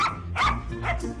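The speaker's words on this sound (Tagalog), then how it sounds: "Aso! Aso! Ang aso!" A dog barks in a few sharp bursts, close by, with some yipping quality, loud and clear against a noisy background.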